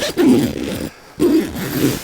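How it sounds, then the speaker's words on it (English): A zipper runs along a Coleman 6-person instant cabin tent in two close, scratchy strokes split by a short pause, with no talking. "It zips up real nice now."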